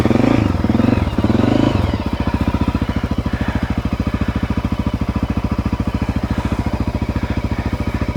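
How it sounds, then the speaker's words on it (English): Honda XR600R dirt bike on the Red Oak OHV trail, a steady, close single-cylinder engine thump running at an even pace, with a brief louder burst of revving at the start before it settles into a rhythmic chug. "Let's take Nicky on a trail ride up the Red Oak OHV Trail."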